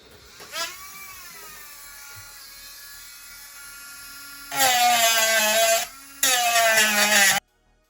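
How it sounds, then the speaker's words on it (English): An angle grinder whines up and spins loudly in two sustained bursts with a brief pause between, cutting a notch into metal, after a quiet stretch with faint handling noise. "I will whip out the grinder, start cutting the notch into the top"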